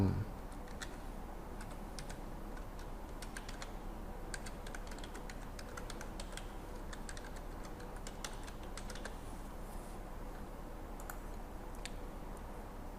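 Typing on a computer keyboard, a steady run of quick soft key clicks, close and quiet, continuing throughout without talk.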